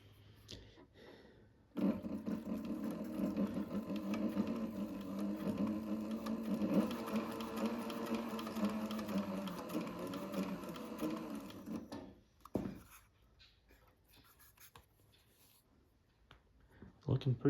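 A Cobra 26 leather sewing machine stitches steadily for about ten seconds, a loud continuous mechanical whir with rhythmic needle clatter, then stops; quiet handling noises follow.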